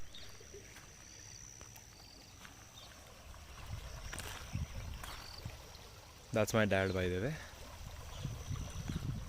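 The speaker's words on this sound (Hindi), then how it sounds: "पानी का आवाज़ कितना सूदिंग लग रहा है यार" A stream flowing near a farm field, a soft continuous rushing under a voice, with a brief loud horn-like tone cutting in partway through.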